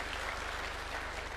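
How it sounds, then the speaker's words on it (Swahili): An audience of party leaders applauds at a State House meeting with UDA leaders. The clapping is faint and distant, a steady wash of claps over a low electrical hum. "Tuwapigie makofi jameni"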